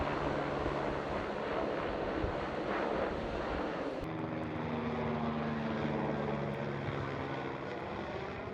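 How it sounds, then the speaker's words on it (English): A steady, loud engine drone with a low rotor thrum from a helicopter passing close overhead on the Everest Base Camp trek, shifting in tone halfway through. "the helicopters have been pretty much non-stop"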